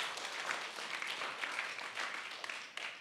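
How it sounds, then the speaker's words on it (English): Faint, steady applause from a crowd, a dense patter of clapping that stays level throughout and sounds distant. "Give him a round of applause"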